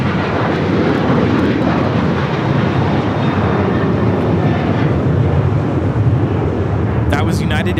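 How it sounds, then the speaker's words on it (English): A United Airlines Boeing 737-900ER takes off from LAX, its engines roaring loud and steady with broadband jet noise throughout, some faint talk mixed in. "That was United Airlines 1621 taking off to Orlando on the 737-900 ER."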